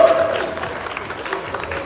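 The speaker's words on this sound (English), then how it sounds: "Can you give another round of applause for Nayo and Lalo?" Applause from an audience at a Tekken 8 esports tournament, a dense patter of clapping that starts strong and gradually eases over a couple of seconds.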